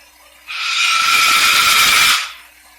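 A pet bird lets out one long, loud, shrill squawk lasting about two seconds in a home kitchen, rising abruptly and then cutting off, with no talking over it.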